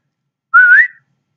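A single clear whistled note from a bird, rising slightly in pitch, about half a second long, close and fairly loud with silence around it.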